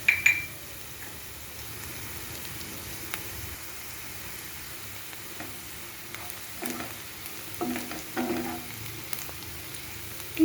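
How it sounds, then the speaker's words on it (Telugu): Green chilies and onions frying in a pan with oil, a steady soft sizzle with scattered scrapes and stirring clicks, close and fairly quiet, no voices. "పచ్చిమిరపకాయలు అవి కొంచెం వేయించుకుందాం."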